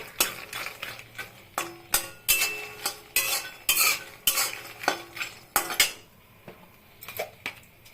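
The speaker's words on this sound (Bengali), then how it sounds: "মাখানাটা ভালো করে ভাজতে লাগবে, বাটারের ফ্লেভারটা যেন আসে সুন্দর" Fox nuts (makhana) frying in melted butter in a pan, stirred with a utensil that scrapes and clinks repeatedly against the metal in an uneven rhythm, close and fairly loud, with a soft sizzle underneath.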